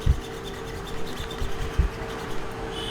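Rubbing out writing on a classroom board gives soft, scratchy wiping strokes in short irregular bursts, close by, over a steady low electrical hum.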